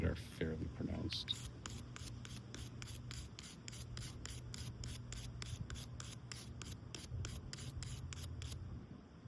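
An abrasive pad scrubs in quick, regular back-and-forth strokes across the brass bolster of a Buck 112 knife, close and rhythmic, a rapid series of raspy rubs after a brief opening bump.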